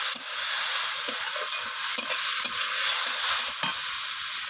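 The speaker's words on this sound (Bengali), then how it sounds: "সমস্ত কিছু মশলা আমি সয়াবিনের সাথে নাড়াচাড়া করে ভেজে নিচ্ছি এইভাবে। একটু জল দিয়ে দিলাম যাতে মশলাটা পুড়ে না যায়" Soybean chunks with spices stirred and fried in a pan with a splash of water, a loud steady sizzle broken by regular soft scrapes of a spatula, close up and without talk.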